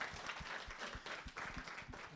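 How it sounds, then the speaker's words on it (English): Audience applause for a leadership panel at a talent conference, a steady wash of clapping from a seated crowd, moderately loud and continuous throughout. "We can all give them one round of applause"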